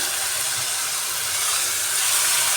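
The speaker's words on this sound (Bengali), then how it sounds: "বাটাটা দিয়ে একটু জল দিয়ে দিচ্ছি" Water poured onto a ground paste of coriander leaves and melon seeds in a hot pan sets off a steady, loud broadband sizzle and hiss that holds evenly throughout, with no voices.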